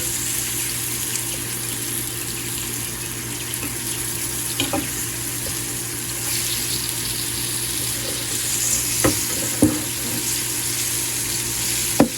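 Rabbit frying in an electric skillet gives a steady close sizzle with a faint background hum, broken by occasional sharp pops and ticks toward the end.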